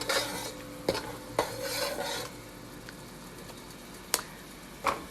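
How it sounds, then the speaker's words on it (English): Utensil scraping and stirring in a pan while deglazing during curry chicken cooking, with a low sizzle throughout and several sharp clinks of metal against the pan. "I'm deglazing my pan right now."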